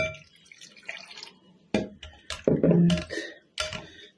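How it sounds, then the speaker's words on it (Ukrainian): Unsalted potato cooking water is poured from a glass into a bowl of freshly mashed potatoes in a home kitchen, giving a few separate close splashing and dripping bursts, the loudest near the middle, with no talking. "Виливаю сюди відвар."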